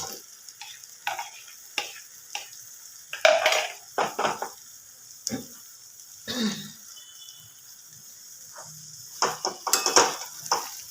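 Fried potato and cauliflower pieces tipped into a pan of spiced curry for yogurt cauliflower, followed by intermittent scraping and stirring with a spatula, clinks against the metal and soft sizzling, close by with no talking.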